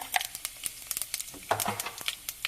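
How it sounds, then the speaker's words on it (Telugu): Faint crackling sizzle of cumin seeds tempering in hot oil in a kadai, with irregular soft pops and spits and no voices. "కడాయి వేడెక్కింది జీలకర్ర వేసుకుంటున్నాను తాలింపు"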